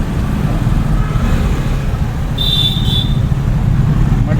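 Car engine on the road during a driving lesson, a steady loud rumble with a brief whine partway through, close inside the vehicle.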